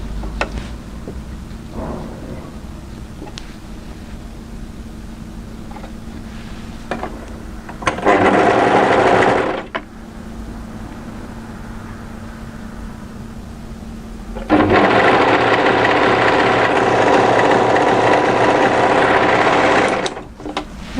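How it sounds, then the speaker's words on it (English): An overlocker stitches the side seam of a pleated maxi wrap dress in two loud, steady bursts, one shorter and one longer, with a low background hum between them. "Turn and overlock the side seam"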